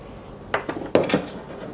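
Seasoned food being tossed with Cajun spice in a bowl, a couple of close, short clinks and scrapes of a utensil against the bowl, brief and fairly loud against a quiet room.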